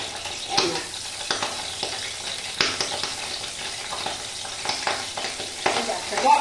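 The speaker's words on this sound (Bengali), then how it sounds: "ঘিয়ের মধ্যে এখন একটু গরম মশলা ফোড়ন দেবো। একটু জল ছিল বলে ফুটছে" Whole garam masala of cinnamon, cloves and cardamom spluttering in hot ghee with a little water in the kadai, a close, continuous crackling sizzle broken by repeated sharp pops and spatula clinks throughout.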